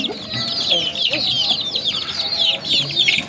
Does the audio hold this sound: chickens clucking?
yes